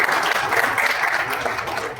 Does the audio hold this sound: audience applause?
yes